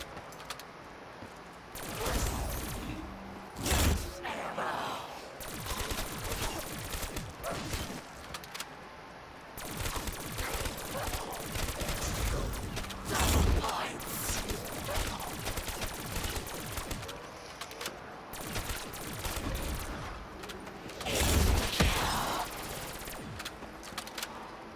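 Gunfire in Call of Duty Zombies, with a shooter's weapon firing in rapid, dense bursts through most of the stretch alongside explosive booms and crashes, layered with game noise and an occasional voice.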